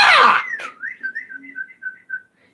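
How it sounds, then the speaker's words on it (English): A person whistles a wavering, warbling tune after a brief loud burst at the start, the clear notes bending up and down in short phrases before trailing off. "Stop whistling!"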